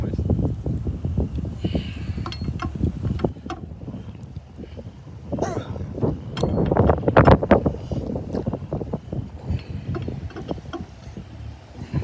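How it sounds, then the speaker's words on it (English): Strong wind buffets an outdoor microphone in broad, continuous gusts that swell louder toward the middle, with rustling bursts throughout and no clear speech. "Tracy said the wind's crazy."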